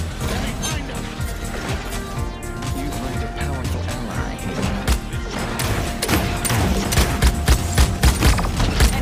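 Bomb King's bombs going off in the Paladins video game, a dense barrage of explosive bursts and crashes layered over game music, with a voice talking throughout.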